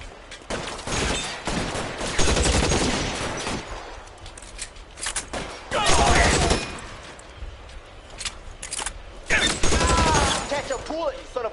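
Bursts of gunfire in the detective game L.A. Noire come in several loud volleys separated by short lulls, with shouted dialogue in between.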